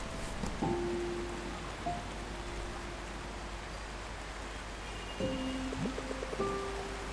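Steady hiss of rain falls throughout the video game Until Then, a constant wash broken by a few brief tonal game sounds, with no talking.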